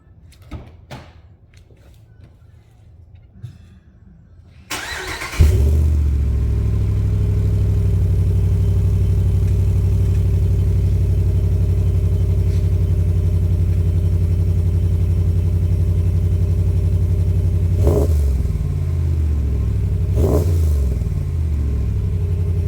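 A fifth-generation Ram 1500 fitted with a Magnaflow direct-fit muffler cranks and starts after a quiet lead-in, then holds a loud, steady idle with two brief revs near the end.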